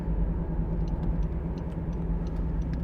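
A 2011 Honda CR-Z 1.5 IMA Sport hybrid cruising at 50 mph, heard from inside as a steady low road and engine rumble with faint ticking over it, no voices.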